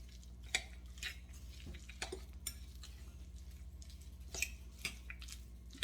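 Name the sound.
mixing chicken salad in a bowl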